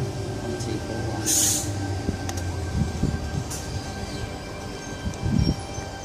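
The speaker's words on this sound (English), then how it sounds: "T71 and friend now departing." A Sydney Tangara electric train, set T71 on the T4 line, pulls away from a suburban station platform with a steady low rumble and motor hum, faint squeals and a brief high hiss, moderately loud and close.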